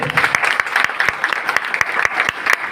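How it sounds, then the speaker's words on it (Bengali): An audience applauds after a speaker at a gathering, with loud clapping and sharp individual claps standing out against a steady background of hands. "মাওলানা মাসুম বিল্লাহ ভাইয়ের জন্য আরো একটি করতালি চাচ্ছে।"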